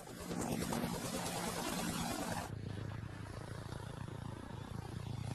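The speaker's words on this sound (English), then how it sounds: "the first thing you hear from a helicopter is the sound of the wake from the main rotor" A helicopter's rotor noise throbs steadily, with a rough, choppy beating that shifts to a lower, duller drone midway through.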